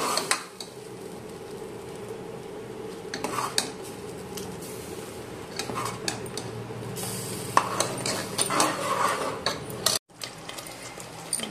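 Egg masala curry paste cooks in a pan, stirred with a metal spoon that scrapes and clinks against the pan over a soft sizzle, with irregular bursts of scraping and a brief pause near the end.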